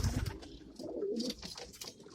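Pigeons cooing inside a backyard pigeon loft, with soft overlapping throaty coos and rustling, close and moderately quiet, with no talk.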